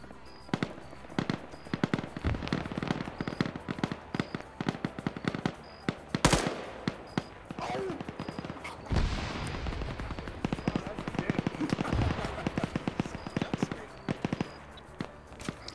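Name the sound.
gunshots in a multiplayer shooter video game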